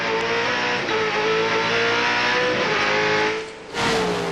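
Glenn Seton's V8 Supercar screams at high revs, heard onboard during a 1997 race at Calder Park. The roar is loud and continuous, with a brief dip and quick climb near the end as he lifts and gets back on the throttle.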